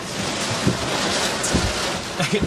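Hurricane rain and gusting wind roar across a town in a dense, steady wash of noise, with sheets of water pouring off awnings and a few brief knocks and splashes close by.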